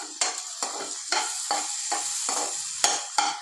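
Onions and tomatoes sautéing in a pan for kothu parotta, with a spatula scraping and stirring in repeated sharp strokes over a steady sizzle, close and loud with no talking.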